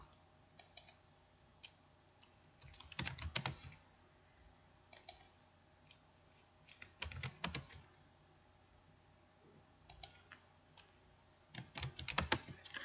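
Fingers typing text on a computer keyboard, quiet irregular bursts of clicking keystrokes separated by short pauses, close and alone.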